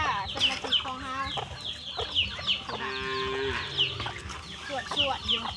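Hungry ducks and chickens cluck and squawk in a noisy farmyard flock at feeding time, with steady overlapping calls and repeated sharp cries throughout.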